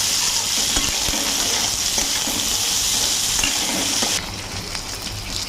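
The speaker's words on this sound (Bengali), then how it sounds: "আবারও সব একসঙ্গে ভালো করে নেড়ে নেব।" Spicy pasta with chopped tomato and chili stirred in a hot pan, a continuous loud sizzle and frying hiss with soft scraping stir strokes and occasional utensil taps throughout.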